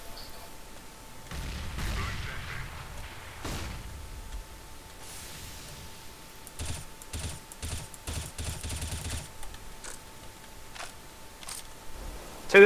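Repeated grenade blasts and gunfire in Counter-Strike: Global Offensive, with low rumbling booms early on and then a dense run of sharp bursts, heard amid game noise.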